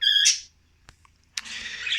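A parrot lets out a sharp harmonic squawk, falls quiet briefly, then gives a longer raspy screech nearby.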